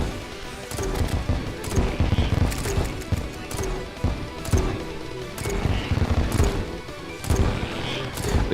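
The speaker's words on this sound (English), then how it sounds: "It's when he stops moving is when the Plague Taint SMG really puts in work." Rapid bursts of Plague Taint SMG fire from Terraria with the Infernum mod crackle over a boss fight, dense repeated impacts and crashes in uneven clusters, loud and close.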